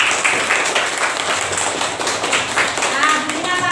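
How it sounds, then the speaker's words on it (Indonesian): Classroom applause for a student named Mas Arif, a short burst of many hands clapping densely and evenly for a few seconds, loud and close, with a voice speaking faintly underneath. "Tepuk tangan buat Mas Arif."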